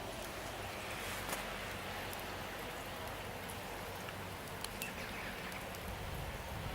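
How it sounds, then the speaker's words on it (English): Rain falls steadily after days of wet weather, a dense even hiss of drops on surfaces with occasional louder close patters, alone and without any talking. "It's been raining for days."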